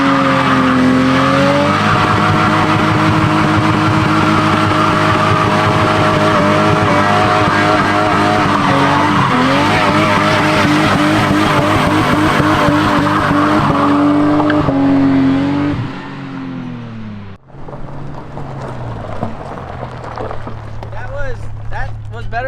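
A Toyota Chaser JZX100 with a swapped turbo 1JZ-GTE engine revs hard and loud up close while its tires squeal, then the engine note drops away near the end as voices talk over it.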